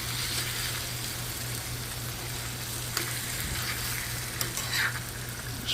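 Food frying on a grill, a loud continuous close sizzle and crackle with a few brief pops and scrapes.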